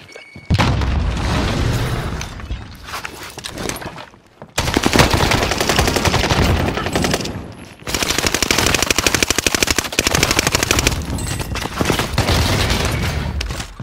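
Automatic gunfire in a QBZ shooter video game rattles in long, loud, continuous bursts broken by brief pauses, dense and close.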